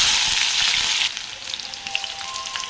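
Green chillies drop into hot oil beside already fried dry red chillies, a dense sizzle that settles into lighter spattering crackles and pops, close and steady.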